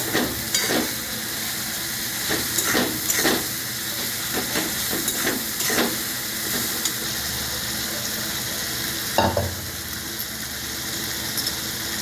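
Chickpea and egg curry base with coriander and chili powder being sautéed in a pan: steady close frying sizzle with repeated scraping stirs throughout, no talk.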